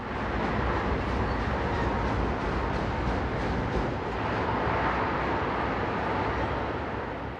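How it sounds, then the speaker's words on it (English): A freight train of grain hoppers rumbles steadily on a Minnesota line as it rounds a distant bend, a constant broad roar with faint rhythmic wheel clatter, no voices. "The tail of the train is just rounding the bend in the distance."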